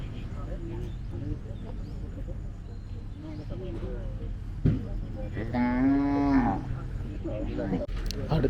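A three-month-old calf moos loudly once in a long, drawn-out call amid a busy country cattle market, with nearby chatter and crowd noise filling the background throughout.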